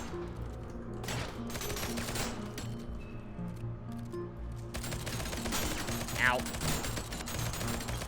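Gunfire from a third-person shooter video game, dense rattling bursts layered under game music and effects, with a brief grunt of pain partway through.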